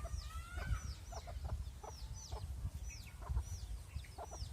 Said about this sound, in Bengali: আজকে আমার মুরগিগুলো ওই যে আমার সাথে আছে